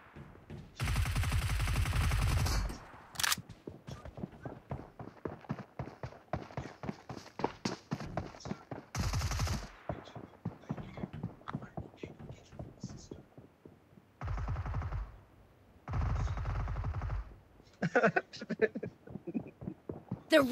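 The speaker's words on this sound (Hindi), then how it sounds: "पता नहीं कहाँ छिपका के मारते हैं गोलियां।" Gunfire in a one-on-one shooter video game, several short loud bursts of rapid shots separated by stretches of quieter game sounds and background noise.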